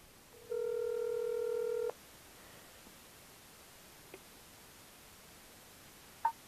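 Telephone dialing tones play as a call connects: a steady multi-tone beep holds for about one and a half seconds, then gives way to quiet line hiss with a few faint clicks.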